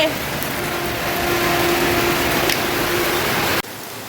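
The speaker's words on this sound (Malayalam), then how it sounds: "നല്ല പെരുമഴ ഇവിടെ പെയ്തോണ്ടിരിക്കുവാണേ" A heavy downpour of rain roars as a dense, steady hiss close by, holding level for several seconds before cutting off abruptly near the end.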